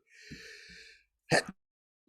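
A man sneezes once, a short sharp burst near the microphone in a quiet room, just after a brief steady hum.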